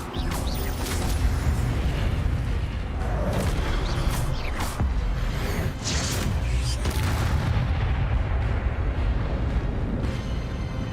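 Incendio fire spell cast repeatedly in the Hogwarts Legacy video game: a sustained, loud stretch of roaring, booming blasts and crackling bursts layered over one another for about eleven seconds, with no voices.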